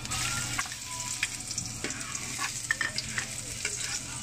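Ginger frying in a small amount of oil for chicken curry, a steady broadband sizzle with scattered crackles and pops and a few stirring scrapes, close and moderately loud, no talking.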